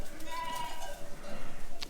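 Lambs in a sheep barn bleat in thin, wavering cries, several overlapping calls at moderate distance over low barn noise, with a voice faintly present.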